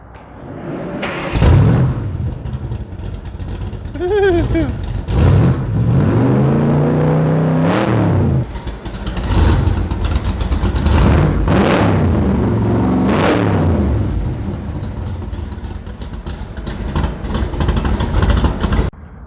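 A 1967 Ford Mustang engine cranks and fires, then revs repeatedly in loud swelling surges with rising and falling pitch, settling into a rumbling idle between blips, heard up close.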